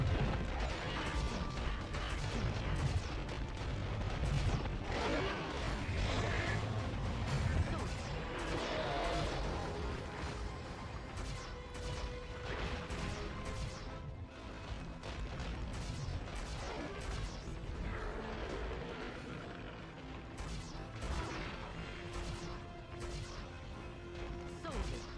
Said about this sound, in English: These meteors are so hard to dodge.